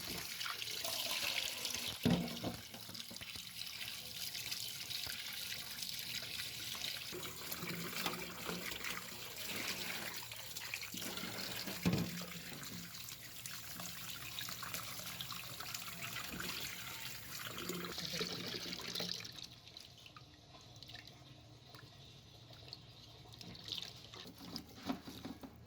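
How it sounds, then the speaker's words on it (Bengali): Small new potatoes, a little over 150 g, are rubbed and rinsed by hand under a running kitchen tap, a continuous soft splashing flow with occasional louder spatters before the water quiets near the end. "আমি আলুর খোসা ছিলবো না, সেজন্য খুব করে কচলে আলু ধুয়ে নিলাম।"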